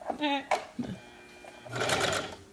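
A domestic sewing machine runs a short burst of stitching along a fabric edge for a baby sleeper, a quick mechanical whir following brief speech.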